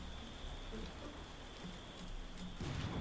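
Steady rain pours over a swamp in a video game, a dense, even hiss of drops with a faint low rumble underneath, continuous and moderately loud throughout.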